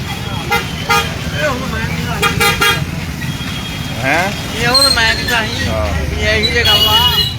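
Busy road traffic with motorcycles carrying flags to the Mata Chintpurni fair, repeated honking horns and passing engines, with voices and music running underneath.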